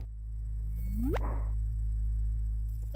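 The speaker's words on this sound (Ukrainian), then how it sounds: "Виміряний сигнал, який ми назвали цвіріньк, це сигнал, який видають дві чорні діри, що зіштовхуються." A sonified gravitational-wave chirp from two colliding black holes: a single rising tone that sweeps quickly upward over about a second and cuts off, followed by a brief hiss, over a steady low hum.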